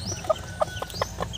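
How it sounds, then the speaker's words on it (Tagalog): Newly hatched chicks and chickens on a small farm, several close soft clucks and chirps in a quick irregular series over a low background, no talking. "ipapakita ko muna sa inyo mga boss yung mga sisiyo"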